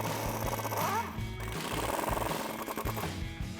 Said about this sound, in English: So I'm gonna start with a 15mm socket to remove my bolts.